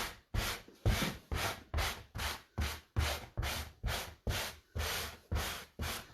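A painted fabric chair is sanded with 120 grit sandpaper in about a dozen even back-and-forth strokes, each a close, rasping scrape separated by short pauses.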